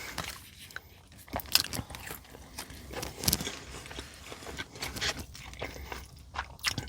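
Bites and chewing on a Del Taco value taco, close and intimate, with irregular crunchy bursts and soft mouth noises repeating over several seconds, no talking.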